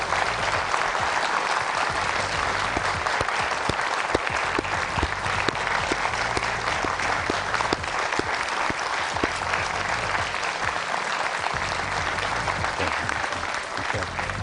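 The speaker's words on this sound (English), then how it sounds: "let's give a big applause to our Prime Minister" A large audience at a public conversation event with the Prime Minister gives sustained applause, a dense, steady wash of clapping that lasts without a break from start to finish.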